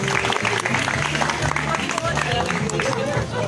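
Audience applause at a community festival in Lisbon, a dense, steady patter of many hands clapping throughout, with crowd murmur mixed in, fairly loud and close.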